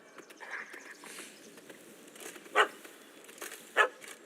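A puppy in The Witcher 3 gives two short, sharp barks, spaced about a second apart, at moderate distance over a quiet outdoor ambience with faint scattered noises.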